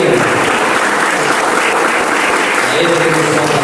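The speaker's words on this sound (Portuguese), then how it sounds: "uma salva de palmas para Jesus, uma salva de palmas para nosso Deus" Close, loud, dense clapping from a Sunday church congregation fills a few seconds as a continuous roar of hands, steady throughout.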